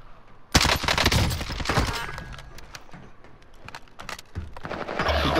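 Dense bursts of automatic gunfire crackle in a shooter video game, loud and near, with rapid overlapping shots and brief lulls before the firing resumes toward the end.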